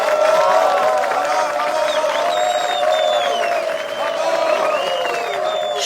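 Audience applause greeting a singer at a live show, a dense steady roar of clapping and crowd noise with some cheering, loud and continuous throughout.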